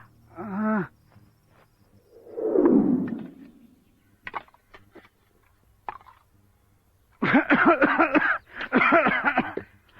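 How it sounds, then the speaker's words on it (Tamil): An old man coughs in a Tamil film scene, with a hoarse rasping burst early on, scattered small sounds, then two long loud hacking cough fits near the end. "ராத்திரி பூரா இருமுறது"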